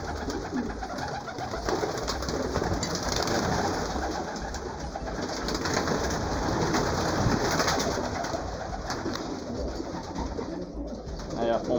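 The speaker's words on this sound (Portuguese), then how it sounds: "Dá até pra navegar no meio dos pombos aí, ó." A large flock of pigeons loosed outdoors in the afternoon, dense overlapping cooing and wing shuffles filling the scene continuously and fairly close.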